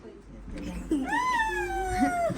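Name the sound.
cat meowing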